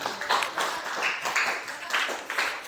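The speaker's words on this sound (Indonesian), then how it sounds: "Tepuk tangan dulu untuk orang Sihon" A classroom gives a short round of applause for a student group after it presents its discussion results. The clapping is moderate and uneven, with a few sharper bursts, and no voices over it.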